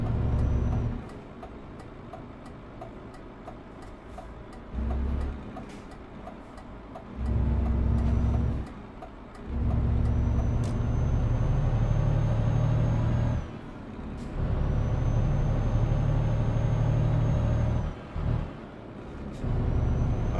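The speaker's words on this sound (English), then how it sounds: "The engine brakes in Europe sound different than the ones in the US." Low droning truck engine braking in Euro Truck Simulator 2, several sustained rumbling bursts that cut in and out over about twenty seconds, with quieter engine hum and faint ticking between them.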